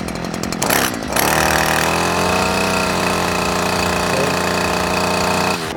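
A Stihl FS 94 R string trimmer engine rises from a brief lower note to full throttle, then holds a loud, steady high-revving buzz close by until it drops off at the end.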